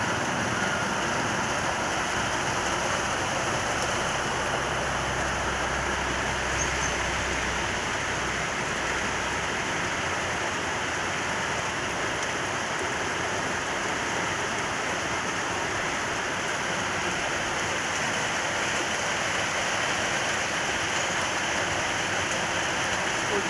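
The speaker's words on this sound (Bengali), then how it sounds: "কি জোরে বৃষ্টি হচ্ছে।" Heavy rain pours down in a dense, continuous roar that holds at an even level for the whole stretch, with no voices over it.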